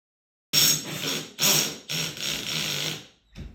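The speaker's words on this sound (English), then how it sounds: "Kyle's using a hole saw to cut the holes in the ceiling." A hole saw bores through a ceiling while canned LED lights replace old fluorescent fixtures, grinding in three loud close bursts with short pauses between, then a brief softer knock at the end.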